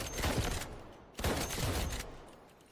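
Lever-action rifle gunshots in the video game Delta Force, two loud booming shots about a second apart with rumbling tails, close and dense, with no talk.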